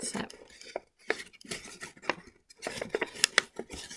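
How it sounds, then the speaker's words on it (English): Paper crinkles while an origami blossom is folded, in close, irregular bursts of crisp rustling and crackling separated by short silences. "You're hearing all this crinkling paper as well."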